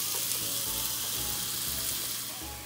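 Onions hit hot oil in a pot and fry with a loud, steady hiss and crackle that continues unbroken, with no voices over it.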